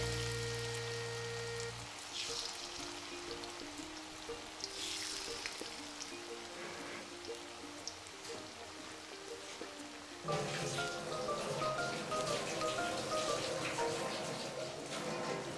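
Pakora batter dropped by hand into hot oil fries with a steady crackling sizzle that swells louder partway through, continuous and close, with no talk over it.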